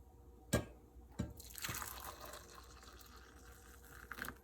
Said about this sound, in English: I'm going to pour myself a cup.